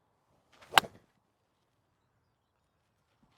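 A 4 iron strikes a teed-up golf ball with a single sharp, crisp impact, fairly close, followed by near silence.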